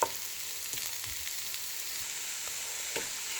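Mushrooms sauté in a pan for a chicken fettuccine Alfredo, giving a steady, even sizzle with a few light stirring clicks. The frying is close and continuous, with no talking.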